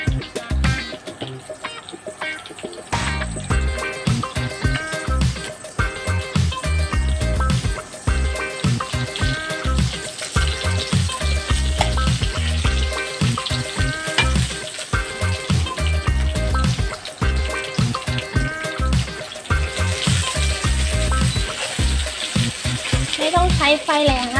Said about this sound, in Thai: ผัดกะปิกับข้าวให้หอมเข้ากันนะคะ